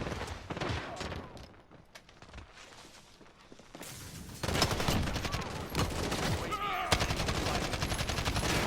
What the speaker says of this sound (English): he just kept shooting, I guess.